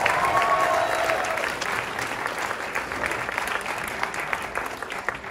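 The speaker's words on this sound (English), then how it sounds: "Can we get another round of applause for Isabella?" Applause from the audience for a performer at an international student talent show. Full, lively clapping starts strongest and eases gradually, staying steady and fairly close throughout, with a brief whistle-like tone at the start.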